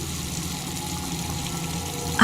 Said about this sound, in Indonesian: Keran air di wastafel menyala.